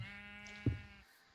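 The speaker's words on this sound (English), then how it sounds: "Listen, sheep" A single short sheep bleat from Minecraft, fairly clear and near, rising briefly over a steady held background tone before the sound drops away into quiet.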